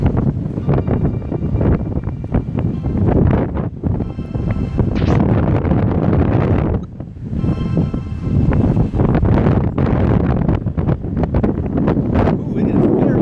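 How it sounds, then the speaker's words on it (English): Strong wind gusts buffet an outdoor microphone in loud, continuous rumbling waves with a brief lull in the middle, without any talking. "it is very windy out here"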